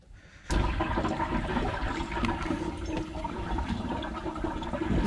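Water rushes steadily into the pipes of a newly installed heat pump heating system, a close, continuous gushing flow that starts abruptly and keeps going alone.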